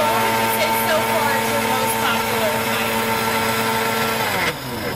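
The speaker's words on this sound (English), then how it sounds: "All right, so we're gonna blend it up." A blender whirs as it blends a dessert drink at a dessert and coffee bar. Its steady, close motor drone holds for about four and a half seconds, then its pitch shifts briefly near the end.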